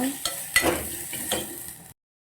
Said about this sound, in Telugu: కారం పచ్చివాసన పోయినంత వరకు వేపుకోవాలన్నమాట.